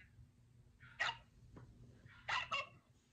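Dogs bark in the background of a phone call, heard as a few short, faint barks in two separate bursts over a low, muffled line hiss.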